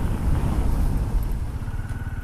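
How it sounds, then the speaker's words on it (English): A motorcycle brakes hard from about 80 km/h, its engine rumbling and sputtering loudly close by as it slows, with wind noise and no talking. "I'm at 80 now, and now let's brake this bike."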